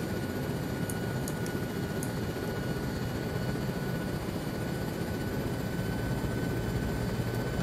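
Huey helicopter in Arma 3, idling or hovering with a steady, loud broadband engine and rotor roar that never lets up, plus a constant whine and a few brief high clicks, no voices.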